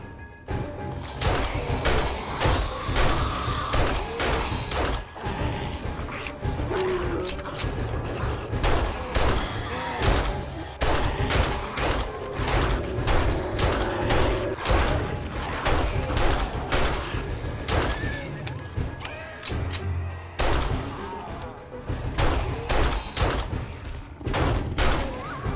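Rapid gunfire from the survival game 7 Days To Die, with sharp repeated shots and thumps rattling off in dense bursts for a long stretch, fairly loud and continuous with brief pauses.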